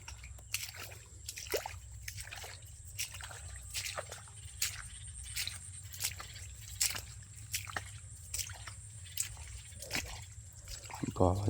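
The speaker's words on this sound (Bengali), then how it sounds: "জল যাচ্ছে এখান দিয়ে" Water runs and drips through a flooded jute field, with soft splashy trickles and repeated small drops close by over steady low background noise, and no talking.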